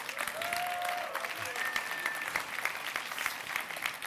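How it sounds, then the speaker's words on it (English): Audience at a European awards gala ceremony applauding, a dense, steady patter of clapping from a crowd, fairly faint and distant, with a couple of brief tonal whistles or feedback tones over it. "Give yourselves all a big round of applause."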